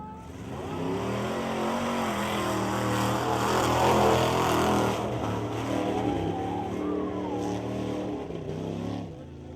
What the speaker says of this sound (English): I don't know if you've ever seen the big trucks. And this is basically they drive through the mud.